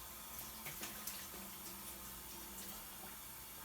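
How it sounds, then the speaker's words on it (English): Tap water running into a sink while greasy hands are washed after scrapping a Black and Decker toaster oven, a steady faint splashing with small bumps, no voices. "I'm going to put it right in the sink. And wash my greasy hands."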